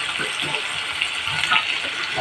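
Water poured into a pan of shrimp curry in a home kitchen, making a steady hissing, splashing sizzle that continues close by for a couple of seconds.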